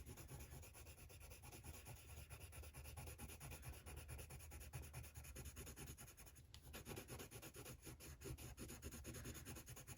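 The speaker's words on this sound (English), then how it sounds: "I'm gonna sort of burnish this bit as well with the cream." A cream coloured pencil burnishes a coloured-pencil drawing in Mystic Art Mirrors, producing a continuous close, dry rubbing scratch that holds steady for the whole stretch.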